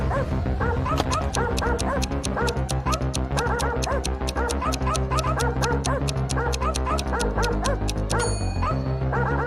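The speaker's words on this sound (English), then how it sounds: "it wasn't a regular dog, it was a robot dog. Barking, it ran after Eve" A robot dog gives rapid, repeated yips and barks in a steady rhythm, loud and close, with a busy musical bed playing underneath.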